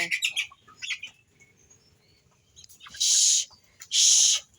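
A chicken clucks and chirps in short, sharp bursts nearby, followed by two loud hissing bursts like sizzling in a pan.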